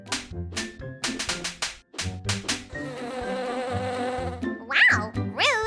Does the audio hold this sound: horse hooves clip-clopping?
no